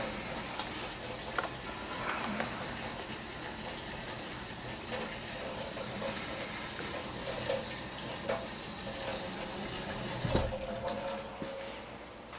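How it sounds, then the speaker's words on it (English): Hot water runs from a kitchen tap as a steady, moderately loud hiss, with faint clicks and mechanical rattles mixed in throughout. "I'm gonna get some hot water running"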